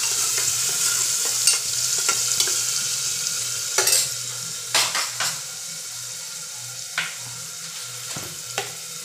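Onion and garlic sauté in a pressure cooker, a constant close sizzle broken by scattered spoon clinks and scrapes against the metal pot, no voices.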